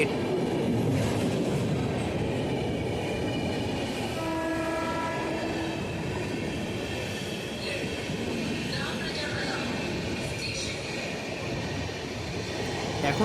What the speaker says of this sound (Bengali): সামনে থেকে আসছে train number one two eight seven one Howrah থেকে টিটলাগড় ইস্পাত এক্সপ্রেস